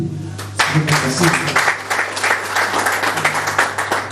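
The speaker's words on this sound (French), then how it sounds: "Je vous prie d'applaudir aussi pour lui." Audience applause for Professor Tina at an official tech launch event, clapping rising and continuing steadily after a brief moment of speech at the start.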